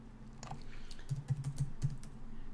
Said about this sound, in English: And I'm going to type in Joshua Tree